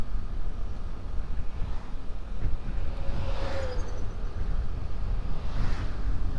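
Strong wind roars across the microphone during a motorcycle ride on a road trip in Bicol, a loud, constant rumbling buffet with no speech, steady throughout.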